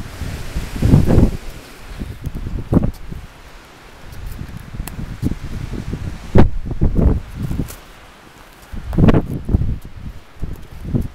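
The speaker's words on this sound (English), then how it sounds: "It's really windy." Strong gusts of wind buffeting the microphone at a high viewpoint on the Grand Canyon rim, loud rushing bursts rising and falling in waves, with no clear talk.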